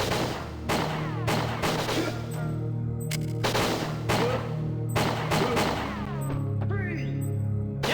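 Rapid bursts of gunfire from the player's weapon in the N64 shooter Winback, several sharp loud volleys in quick succession with brief gaps, close and dominant with no talking over them.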